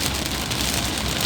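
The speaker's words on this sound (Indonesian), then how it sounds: "Hujan yang saat ini cukup deras di KM 15 menuju Jakarta." Heavy rain pours steadily onto a highway at KM 15 heading toward Jakarta, a dense, even hiss with a faint low rumble of traffic beneath, no voices.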